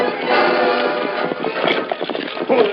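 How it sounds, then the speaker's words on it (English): In a 1943 Lone Ranger radio drama, a horse and wagon approach, with hooves clip-clopping and wheels rumbling over a windy outdoor bed, heard alone without talk and steady throughout. "Me hear horse, wagon come this way."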